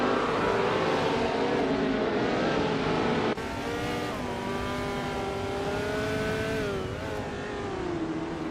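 A 1968 Mackie Mark 12.D race car engine in a racing game: a loud, continuous engine whine with clear rising and falling pitch as it revs through gears, a sudden shift partway, close and sustained.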